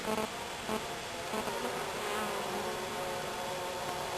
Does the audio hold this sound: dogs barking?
no